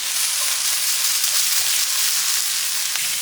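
Meat sizzling and frying with smoked paprika in a hot pan, a loud steady hiss with faint stirring scrapes, close and continuous with no talk.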